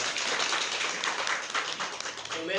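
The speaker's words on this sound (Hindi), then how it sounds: "ताली बजा दीजिए।" A school audience claps for the principal at a welcome ceremony, a dense broadband patter of many hands holding steady throughout, close and fairly loud.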